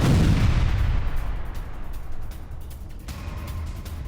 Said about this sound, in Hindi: होवित्जर तोप से सैन्य ठिकानों पर हमला किया।